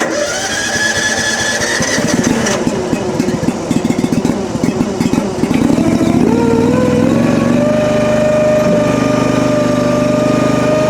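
A 23HP Briggs & Stratton engine on a HUAYEE HY480D mini skid steer cranks and starts, then settles into a loud, steady running drone that rises in pitch, heard close up.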